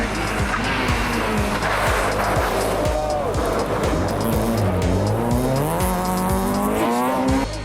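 A rally car's engine roars with rising revs as its tires skid and squeal through the forest. A loud, continuous run of gear changes and sliding grip plays without speech.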